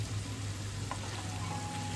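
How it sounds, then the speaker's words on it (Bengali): Honey chicken frying in a pan with oregano and crushed black pepper, a steady close hiss and sizzle with faint scraping as it is gently stirred, no talk. "হালকা হাতে একটু নাড়াচাড়া করে দিচ্ছি"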